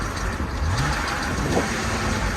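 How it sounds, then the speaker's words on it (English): A BMW E46 330i Cabriolet's exhaust hums through a steady engine note from inside the car, with a brief rise in revs partway through over constant road and wind noise. "that exhaust note never gets tired"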